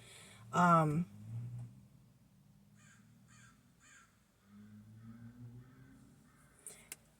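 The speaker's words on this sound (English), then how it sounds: "I'm hearing this black crow" A black crow gives one loud, close caw sequence near the start, followed later by a few fainter, distant bird calls against a quiet background.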